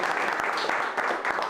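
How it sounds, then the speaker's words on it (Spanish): Brief burst of audience clapping at a freestyle rap battle event, dense and steady throughout, moderately loud. "Un aplauso para nosotros."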